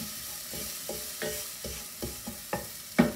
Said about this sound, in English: So I'm just going to pop that on a nice low heat now and just let that cook ever so gently.